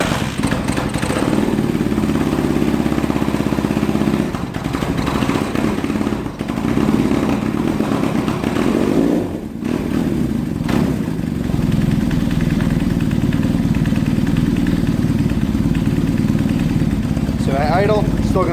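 Kawasaki KZ400 tracker motorcycle kickstarted and left running, a loud steady idle clattering close by with small dips and brief blips, continuous throughout.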